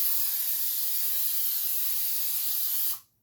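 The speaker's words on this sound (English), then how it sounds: "we're going to spray it with some of this. It's a non-stick spray" A continuous non-stick cooking spray hisses steadily onto a hot griddle for about three seconds, then stops abruptly.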